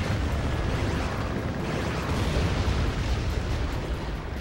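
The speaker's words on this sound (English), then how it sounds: "you throw bombs, and they do a lot." Bombs explode in the video game Ratchet and Clank 2, a loud, continuous roar of overlapping blasts and rumbling debris that fills the whole stretch.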